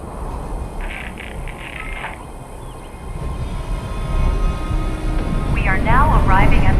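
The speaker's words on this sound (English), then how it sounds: "We are now arriving at the station. Please be sure to collect any children and personal belongings before exiting the Nuka Express." The Nuka Express train arrives at the station in Fallout 4: Nuka-World, a low rumble that builds steadily louder. Faint chimes and squeals come over it, and a voice makes an announcement.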